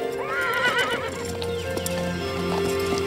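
Horses on a horseback ride, hooves clip-clopping at a walk with a clear whinny early on, steady and fairly close, no talking over it.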